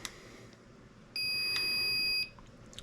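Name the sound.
Traxxas TRX-4 electronic speed controller calibration beep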